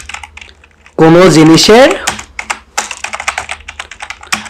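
Quick, uneven clicks of a computer keyboard as Python code is typed, following a short burst of spoken words at the start.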